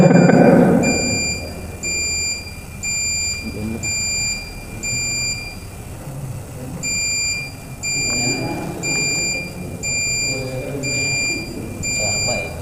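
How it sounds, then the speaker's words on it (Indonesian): An electric bell or buzzer sounds in repeated short, evenly spaced bursts of a high, steady tone, with a pause partway through, while people talk underneath nearby. "Bel ini bel."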